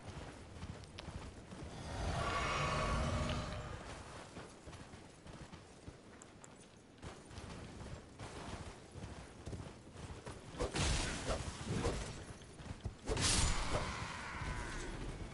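Horse hooves clip-clopping in a game, rhythmic thuds with occasional swells of wind-like rushing and sliding noises, moderately loud, no voices.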